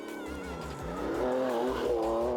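A Porsche rally car at the 2023 Classic Safari rally in Kenya drives over speed bumps, its engine droning and revving close by with a run of low, rhythmic thumps as the wheels strike the bumps.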